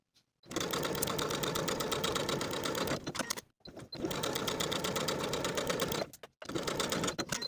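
A sewing machine stitches quarter-inch underarm sleeve seams on a vintage-style dress in three long, steady bursts of fast, even whirring, each separated by a short pause, close and clear.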